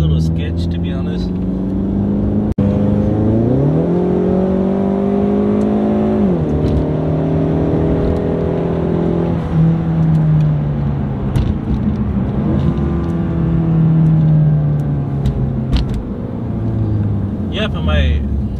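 A car driving while its transmission shifts gears, the engine note climbing and then dropping at each shift, loud and close, with a steady rumble carrying on between the changes.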